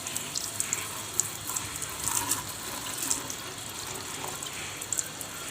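Water runs steadily from a tap while homemade materials for a DIY floating raft are rinsed clean, a constant close splashing hiss with faint clinks and drips and no talking.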